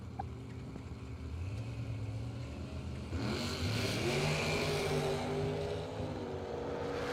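Two drag racing machines, an Anthem altered and a 99 Craftsman dragster, sit idling loudly at the start line, then roar harder together as they launch, the sound swelling into a sustained, rising engine blast.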